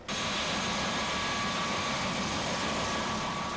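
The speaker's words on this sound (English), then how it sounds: "Flagged down a passing Air Force helicopter." An Air Force helicopter roars overhead during hurricane flood rescue, a loud, steady, dense rotor and engine rush filling the whole stretch with no pauses.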